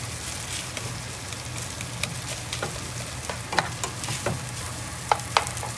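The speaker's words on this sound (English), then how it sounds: "we can break this egg up some. So we want to make sure all the rice, there's no more clumps in it" Shrimp fried rice with egg sizzles steadily in a hot pan while a utensil stirs and scrapes through it, giving repeated clicks and taps over the frying hiss, with no talk.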